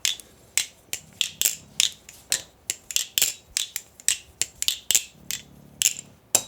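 A balisong knife with its screws removed gives a tap check: a quick series of sharp, bright metallic clicks and taps in an irregular rhythm, close and clear with no talk.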